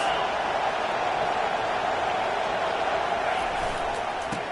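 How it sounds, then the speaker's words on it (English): A stadium crowd at a football game roars in a dense, continuous wash of cheering, with a voice talking over it. "This crowd trying to make life miserable for this offense."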